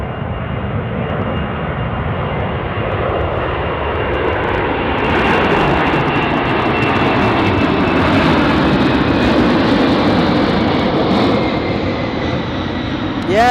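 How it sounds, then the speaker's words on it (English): A Boeing 747 jet airliner takes off at Anchorage airport, its engines producing a loud, broad, continuous roar that builds slightly and holds steady throughout, heard from nearby with no talking. "I think that's the best way to see a takeoff for a 747."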